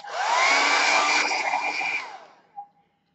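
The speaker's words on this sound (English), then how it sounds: "with the hair dryer, you've got a lot of air coming out of there." A handheld hair dryer blows a steady, loud whoosh of air with a whining motor tone for about two seconds, then winds down and cuts off with a short click, close by and with no talk.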